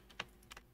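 Three quick, faint keystrokes on a computer keyboard while a command is typed in Minecraft Bedrock: a single tap, then two close taps a moment later, in a quiet room with no voices.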